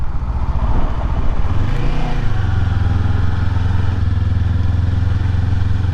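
A Kawasaki Ninja 500 motorcycle rolls at slow speed through a quiet subdivision, its engine a steady low drone with a brief rising swell of throttle before settling into an even, close, continuous hum.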